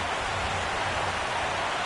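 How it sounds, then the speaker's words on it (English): Steady rain pours over a baseball stadium in MLB 15 The Show, a continuous soft hiss of even, moderate loudness with no talk over it. "The rain, as we've mentioned, coming down fairly steadily here at game time."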